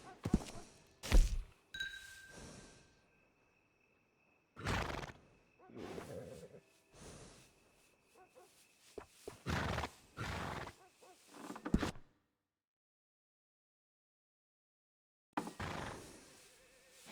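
A horse in Red Dead Redemption 2 snorts and whinnies in scattered bursts with thunks and hoof sounds, separated by long quiet gaps.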